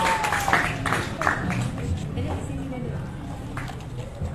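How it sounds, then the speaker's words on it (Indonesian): Audience applause at an Indonesian stage arts performance in Banten, a moderate round of clapping mixed with crowd murmur and voices, continuing steadily and then tapering slightly. "kasih tepuk tangan ya Maria"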